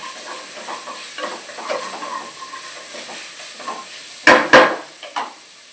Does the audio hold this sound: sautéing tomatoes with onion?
yes